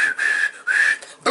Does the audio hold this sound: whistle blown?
yes